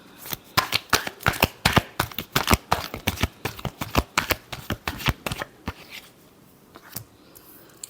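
Tarot cards shuffled by hand in a rapid series of crisp riffling flicks, close and fairly loud, the bursts slowing and thinning toward the end.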